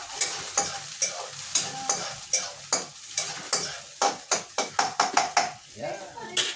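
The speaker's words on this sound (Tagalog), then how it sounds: "Ngayon, halu-haluin po natin." Food with soy sauce stirred in a frying pan, rhythmic scraping and clattering strokes of a utensil over a steady sizzle, close and continuous.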